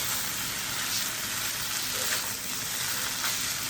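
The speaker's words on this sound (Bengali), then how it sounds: "দিয়ে একটু নাড়িয়ে চাড়িয়ে আমি চুলা অফ করে দেব।" Tomato sauce mixture stirred in a pan on the stove, a soft continuous sizzle and faint scraping at low volume with no voices.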